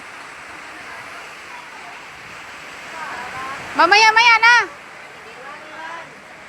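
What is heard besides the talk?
strong wind during rain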